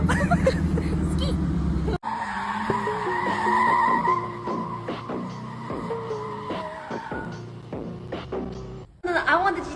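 A Nissan GT-R drives off with tires squealing and skidding and its engine revving loud and close, while voices talk over it.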